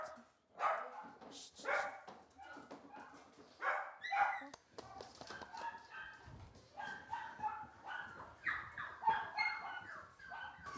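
Purebred dogs in a breeder's kennel barking and yipping in a lively, irregular chorus close by, with a few higher squeaky yelps mixed in and people talking now and then.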